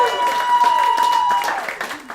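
An audience at the Butterfly Club cabaret venue applauds in a short burst of clapping, mixed with a voice and a sustained musical tone.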